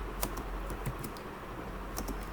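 Code is being typed on a computer keyboard, with scattered crisp key clicks at an uneven pace over a low steady background hum, close and moderately quiet, with no speech.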